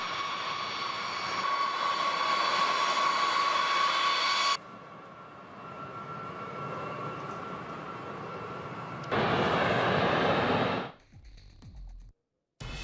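Engines of a C-17 Globemaster military transport aircraft: a loud, steady jet roar with a high whine, broken into stretches by abrupt cuts, then a brief quiet gap.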